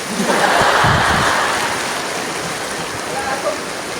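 Heavy rain pours steadily during a typhoon in Samar, a dense continuous wash of water noise, with a few brief low thumps near the start and faint background sounds.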